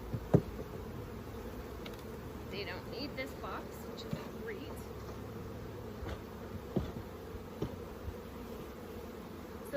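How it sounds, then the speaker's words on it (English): Honeybees buzz inside an opened hive box during a honey harvest, a low, continuous drone close by with scattered knocks and handling clicks, while a person talks over it. "When you take their lid off, it's going to be a lot of bees inside."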